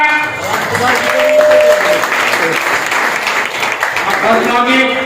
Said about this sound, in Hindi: इनके लिए जोरदार तालियां।